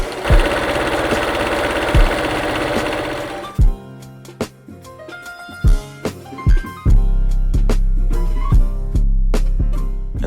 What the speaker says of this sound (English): And don't forget to overlock the seam.